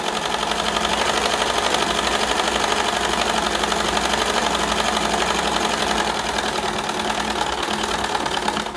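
Sewing machine stitching fabric during a tailoring lesson, a steady, dense mechanical whirr of rapid needle strokes running continuously at close range without pause.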